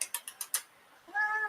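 A cat gives a short meow close by, following a run of five quick clicking taps.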